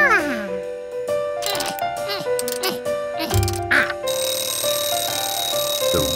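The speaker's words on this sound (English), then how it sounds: "The ringer hit the bells when the alarm went off." Rapid metallic bell ringing from an alarm clock's ringer in a Curious George cartoon, bright and close, mixed with music and other playful sound effects.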